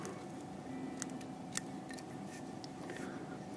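Scissors trim foam material on a jointed pencil popper fly at a fly-tying bench, giving a few faint, sharp snips against a quiet room hum.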